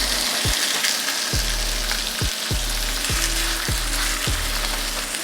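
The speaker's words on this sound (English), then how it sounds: "And again, nice sizzle in the pan." Chicken pieces laid skin side down in hot oil in a pan give a loud, continuous sizzle and crackle, with several sharp thuds as each piece drops in.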